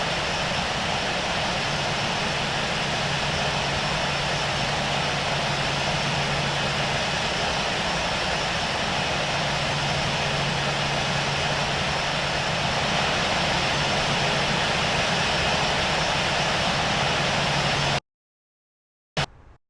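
Airliner jet engines in the Infinite Flight video game rumble in a steady, loud drone while the plane taxis to parking, with a faint low hum, then cut to silence and a brief blip.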